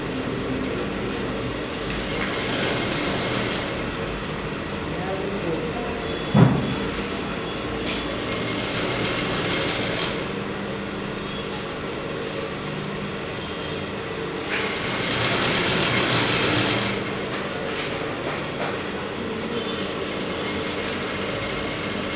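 Sewing machine stitching a sheer top with plain thread, a continuous rattling mechanical drone that swells louder in stretches, close and dominant throughout.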